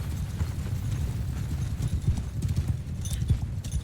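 Cavalry horses gallop in a Mount & Blade: Bannerlord battle, a dense, continuous drumming of many hooves pounding close and loud, with no break across the stretch.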